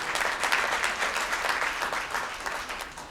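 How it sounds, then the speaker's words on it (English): Applause from the audience at an NAACP Freedom Gala, a dense, continuous burst of clapping with slightly pulsing intensity throughout. "He deserves a round of applause."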